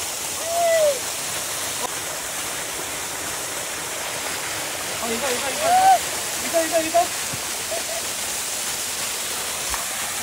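A mountain stream and waterfall pour in a steady, even rush throughout, with a few soft voices and whistle-like calls rising briefly over the water.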